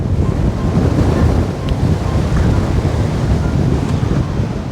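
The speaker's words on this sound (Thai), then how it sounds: "ลมแรงเหลือเกิน" Strong wind buffets the microphone atop Sigiriya Rock Fortress in Sri Lanka, a steady loud roar of gusts with no voices.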